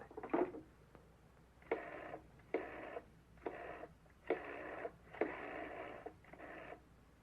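Telephone receiver lifted, then a rotary dial worked through a number in a run of bursts, each spin-and-return separated by short pauses, fairly close in a quiet room.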